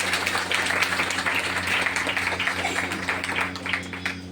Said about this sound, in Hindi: तो हम चाहेंगे कि एक बार आप लोग हमारे ग्रेट अप्लाई के लिए जोरदार तालियां करें